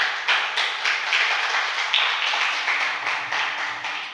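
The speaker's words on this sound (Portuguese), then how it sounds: "Vamos aplaudir por isso?" A church congregation claps together during a sermon, a dense, steady patter of many hands with periodic stronger pulses that rise and fall over several seconds, filling the room without voices over it.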